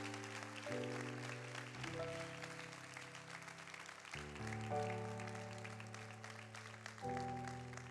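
A church congregation applauds the Prince of Peace at the close of a service. The clapping is soft and steady under sustained keyboard or organ chords that shift every second or two.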